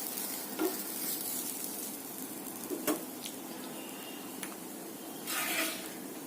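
Palm jaggery somas filling ingredients dry roasting in a pan with ghee, soft sizzling under intermittent scrapes and stirring strokes of a spoon, fairly quiet and close.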